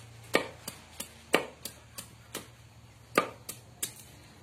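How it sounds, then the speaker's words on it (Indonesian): Fresh plant material being chopped on a board for homemade organic liquid fertilizer, about a dozen sharp knife chops in an irregular rhythm, close and clear with no talk. "Ini dicincang begini aja, nanti ditumbuk lagi atau digiling"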